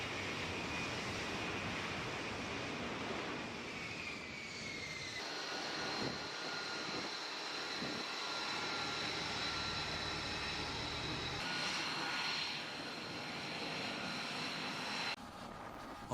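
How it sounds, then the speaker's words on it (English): Military aircraft run through deck landing qualifications on the flight deck of the Wasp-class amphibious assault ship USS Boxer in the Pacific, a faint, steady engine roar and whine with wind, shifting in pitch, no voices. "conducting deck landing qualifications on the flight deck of Wasp-class amphibious assault ship USS Boxer LHD-4 in the Pacific Ocean."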